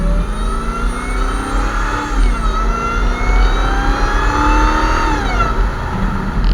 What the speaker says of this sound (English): that high-pitched whine of the supercharger, it's so prevalent in this car